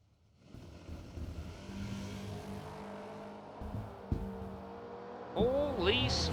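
Drag racing cars, including a Camaro and a wheel-standing wagon, launching at a race event, engines roaring and rising in pitch under an announcer's voice, ending with a sharp high tire-squeal-like screech.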